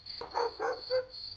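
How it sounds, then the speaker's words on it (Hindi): Dog barking at night, three short muffled barks spaced a few tenths of a second apart over a steady high whine, fairly faint and distant. "बस कुत्तों की कभी कभी भौंक सुनाई देती।"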